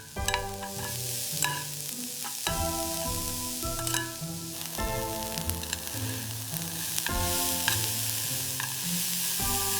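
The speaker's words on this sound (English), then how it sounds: "Perfectly blanched beans meeting the hot garlic butter. Listen to that sizzle." Blanched green beans sizzle loudly in hot garlic butter, with a steady frying crackle throughout and repeated clatters of brisk stirring and tossing up close.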